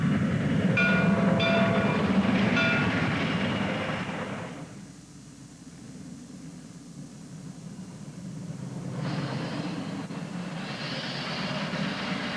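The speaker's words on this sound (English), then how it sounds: "This caboose hop is leaving the connection with the Southern Railway's Murphy branch at Topton" A caboose hop on a steam shortline leaves the junction with the Southern Railway's Murphy branch at Topton, rolling past with loud rumbling and clattering wheels that ease off midway, then swell again as cars keep passing.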